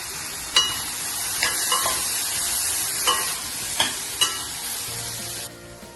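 Chopped tomatoes frying with onion and turmeric in a pan, a steady close hiss with a few distinct scraping stirs of a spoon at intervals, no talking.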